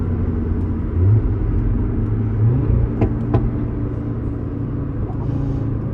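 An Audi RS3 engine in Dubai, heard as a steady, loud low rumble with slight swells in pitch, with no voices.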